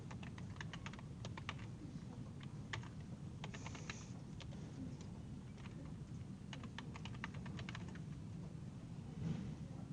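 Someone types an email address on a computer keyboard in quick, light clusters of key taps with short pauses between them. The taps are quiet and close, over a soft room hum.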